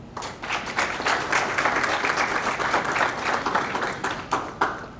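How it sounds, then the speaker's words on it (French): An audience applauds at a formal ministerial address, a steady, moderately loud wash of many hands clapping from a crowd at some distance, with no voices over it. "Merci de les applaudir"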